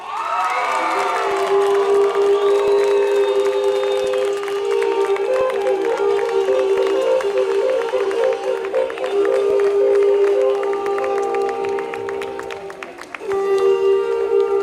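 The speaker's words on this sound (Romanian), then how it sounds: "Vă rog să aplaudați cu toții și să vă bucurați toate comunele" A crowd at a regional folk culture festival cheers and applauds after a first-place announcement, lively shouts and whoops mixing with clapping over a held musical tone, loud and sustained.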